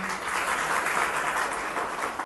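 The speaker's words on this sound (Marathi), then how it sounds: "एकदा सर्वांसाठी टाळ्या वाजवा तुम्ही" Steady applause from a crowd, dense and continuous for a couple of seconds before cutting off abruptly.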